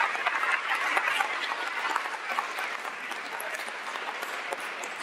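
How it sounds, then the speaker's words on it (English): A conference audience applauds steadily, a dense wash of many hands clapping at a constant moderate level for the whole stretch with no talk over it. "Let's give that team a round of applause."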